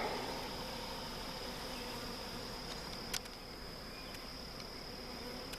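Honey bees from a caught swarm and a small split buzzing around their hives, a dense continuous drone with one brief tap, steady and fairly close, no talking.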